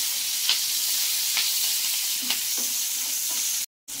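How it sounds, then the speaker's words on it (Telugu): Chopped onions frying in oil for ragi upma, a steady close sizzle with a few soft stirring scrapes and no talking. "చూడండి ఆనియన్ కొద్దిగా వేగిందా కదా."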